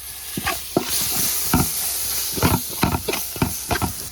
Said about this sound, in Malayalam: ഇതിൻ്റെ അകത്തോട്ട് നമുക്ക് തക്കാളിക്ക് അരിഞ്ഞതും കൂടെ ഇട്ട് കൊടുക്കാം